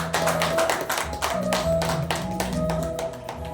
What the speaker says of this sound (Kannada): ಎಲ್ಲರೂ ಚಪ್ಪಾಳೆ ಹೊಡೆದ್ರೆ ತುಂಬ ಖುಷಿ ಆಗುತ್ತೆ.